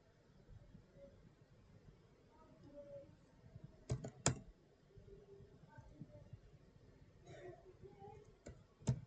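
Keys tapped on a computer keyboard while entering a command-line routing instruction, a few quiet clicks scattered across a faint room hum, with two sharper clack bursts near the middle and one at the end.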